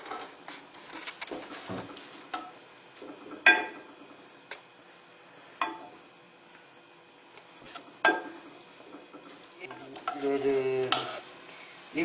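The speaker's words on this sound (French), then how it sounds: "Il faut laisser quand même suer l'oignon et les poivrons" Onions and peppers sweating in a pan for a Moroccan kafta tagine, a faint soft sizzle broken by several sharp spoon scrapes and clinks against the pan, with a brief busier burst of stirring near the end.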